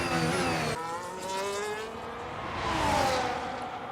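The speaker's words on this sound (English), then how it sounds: "this is Fernando Alonso then taking back the position" Formula 1 race cars roar past one another in the F1 25 video game at the Saudi Arabia circuit: loud, continuous high-revving engine whines that rise and fall as the cars overtake, with no voices.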